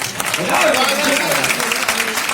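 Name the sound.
audience applause at a poetry gathering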